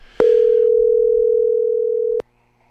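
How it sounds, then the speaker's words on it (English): A telephone dial tone sounds as a call is placed, a steady loud hum lasting about two seconds that starts and stops abruptly with clicks, alone with no voices. "I'm going to make a phone call here, and I'm going to see if this person will answer the phone."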